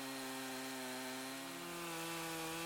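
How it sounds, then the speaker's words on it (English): A Stihl MS362 59cc chainsaw with a 70 cm bar mills Douglas fir timber, its engine holding a steady, continuous high drone at moderate distance with no talking. "This 59cc chainsaw, Stihl MS362, clearly has no problem cutting through this Douglas timber."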